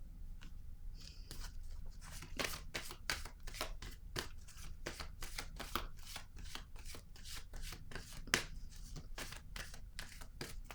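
Tarot cards shuffled and drawn from a deck, a run of quick, crisp paper flicks and snaps close by, irregular but steady, with a sharper slap near the end.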